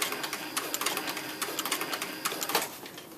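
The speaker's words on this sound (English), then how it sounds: "I'm going to go ahead and sew back." A sewing machine stitches a leather belt slide cartridge holder, making a faint, quick patter of needle strokes over a soft mechanical hum for a few seconds.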